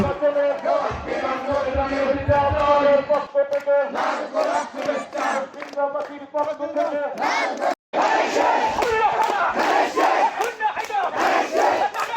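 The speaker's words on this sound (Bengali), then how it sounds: "অনেক ইউনিয়ন থেকে ধানের শীষের মিছিল আসতেছে" A procession crowd at a BNP election rally in Ullapara, Sirajganj, chants slogans loudly in rhythmic unison. Many voices rise and fall close by, with a brief drop-out midway.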